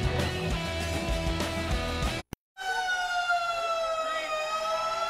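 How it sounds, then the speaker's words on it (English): Wailing old fire truck sirens in a street parade, like air raid sirens, rise and fall loudly, cut by a brief silence, then a steady howling siren tone continues with a slow downward drift. "it sounds like air raid sirens going off, but it's just some old fire trucks"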